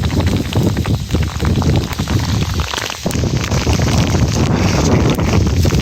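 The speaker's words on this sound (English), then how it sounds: "Hopefully this will blow over because it is fairly windy." Gusty wind buffets the microphone in an open field during metal detecting, loud rumbling blasts that surge and dip unevenly throughout, with no speech.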